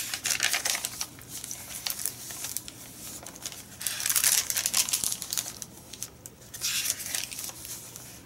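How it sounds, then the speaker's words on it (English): Brown paper bag journal pages crinkle and rustle up close in repeated bursts, with papers from old books handled and turned in a quiet room. "Oh, don't you love the crinkle?"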